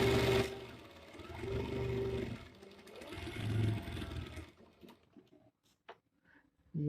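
Electric sewing machine stitching fabric in a basic sewing lesson, running in a steady mechanical whir for about four seconds before stopping, followed by a few faint handling clicks.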